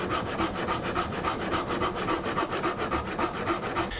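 Rhythmic rasping of a file across a wooden guitar body, quick regular strokes repeating steadily and close up, with no voices.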